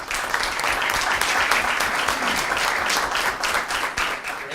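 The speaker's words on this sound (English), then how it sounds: "You go ahead and clap." An audience at a school board meeting applauds steadily for about four seconds, a dense, even wash of many hands clapping in a room.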